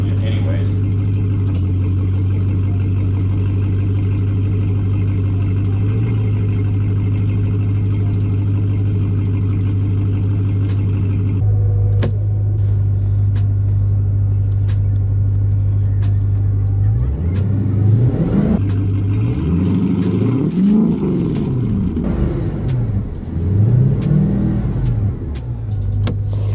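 A wakeboat's inboard engine with V-drive running in its compartment, a loud, steady close drone that swells into repeated rising and falling revs toward the end, with faint talk in the background.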